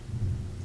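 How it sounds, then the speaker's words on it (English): Low rumble of thunder from a storm outside, a continuous deep roll that swells slightly and stays steady, distant and moderately quiet, with no voices. "if you hear some thunder, that's what's going on in the background"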